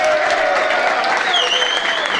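Steady, dense applause from a crowd in a gathering, loud and continuous throughout with a faint whistle-like tone rising briefly midway.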